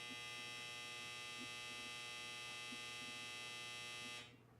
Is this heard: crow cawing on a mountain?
no